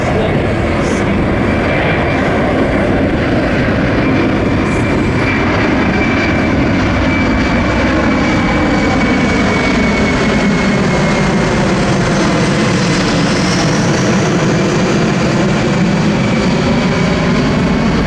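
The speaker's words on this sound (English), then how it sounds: "From the right, at just 120 miles an hour, the C-17 Globemaster III, slow speed." A C-17 Globemaster III jet airlifter makes a slow flyby at about 120 miles an hour at an airshow, its engines roaring loud and continuous with a shifting, sweeping tone as it passes.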